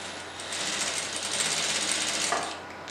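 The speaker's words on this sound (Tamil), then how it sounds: "ஸோ இப்போ நம்ம ஆம் ஹோல்லேருந்து தைக்க ஆரம்பிக்க போகிறோம்." A sewing machine runs steadily and close, stitching the armhole of a boat-neck blouse in one continuous rapid whirring hum that lasts a few seconds before easing off, with no talking.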